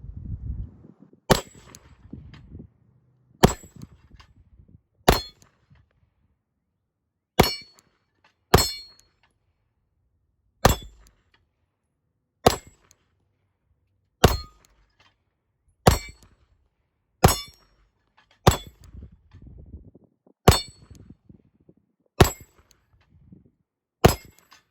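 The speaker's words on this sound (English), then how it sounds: "All right, let's shoot more of the tree." Pistol shots from a handgun with a red dot optic fired at a tree outdoors, about fifteen sharp, separate reports spaced a second or two apart, each with a short decaying echo and light rustling between.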